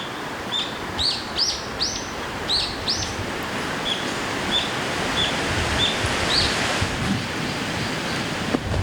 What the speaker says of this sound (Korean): 새들이 지저귀는 소리도 들려오는데요